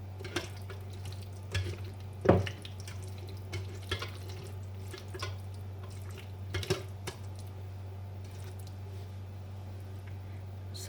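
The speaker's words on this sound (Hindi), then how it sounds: "साथ साथ में थोड़ा थोड़ा पानी डालते जाएंगे ताकि अच्छी तरह गोदा निकल जाए।" Water poured over tamarind and plums in a strainer set over a bowl, a quiet trickle with scattered splashes and drips over a steady low hum.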